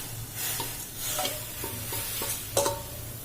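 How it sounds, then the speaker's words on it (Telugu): Flour for murukulu dough made with korralu is stirred into boiling water, giving soft scraping and mixing strokes close by, repeated in a loose rhythm over a faint bubbling background. "ఈ మరిగే నీళ్ళలో ఇక ఈ పిండి వేసేసుకుందాం."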